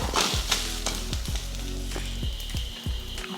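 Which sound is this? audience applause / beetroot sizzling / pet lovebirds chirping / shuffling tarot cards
beetroot sizzling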